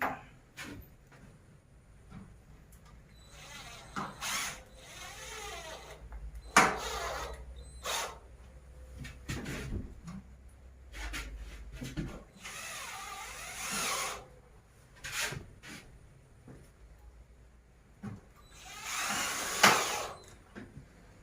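A ceiling panel is being screwed into place with a power drill, intermittent whirring bursts of a few seconds each separated by quieter pauses and small handling knocks, moderately close.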